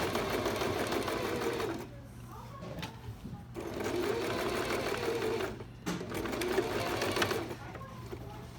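Domestic sewing machine stitching a French seam in fabric, running in three sustained bursts with brief pauses between them, loud and close, with a steady mechanical whir.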